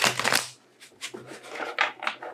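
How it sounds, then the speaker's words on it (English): Tarot cards are shuffled by hand in a few quick riffling bursts, close and crisp, with short pauses between them. "I'm going to shuffle them."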